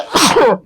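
A single loud, sharp sneeze close by, over in under a second.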